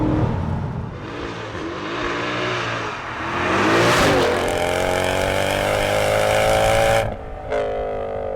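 A 513bhp Mercedes C63 AMG with traction control off revs hard, its V8 note climbing through gears with rising pitch and sharp upshifts, loud and close, then cutting out with a brief final blip.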